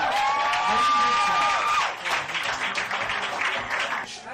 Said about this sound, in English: Please welcome to the stage with a round of applause, Nathyn Gibson, everyone.